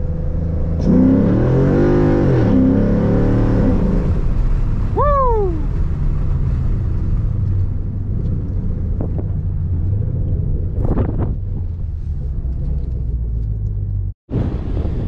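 A 2011 Mustang GT with a Roush axle-back exhaust doing a 20 roll, a loud, close, deep exhaust drone that rises briefly in pitch as it pulls, then settles into a steady rumble before cutting off abruptly.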